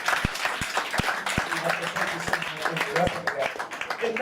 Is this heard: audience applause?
yes